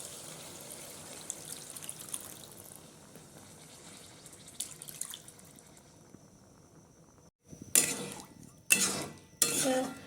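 Water goes into a pan of tarka curry after quiet scraping and stirring. Several loud bursts of pouring and hissing sizzle follow in quick succession near the end.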